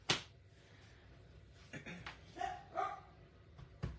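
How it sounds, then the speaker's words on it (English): A dog barks a few times in the background of a quiet room, faint and spaced out, with light tapping and handling noises from card stamping nearby. "There's my doggy again."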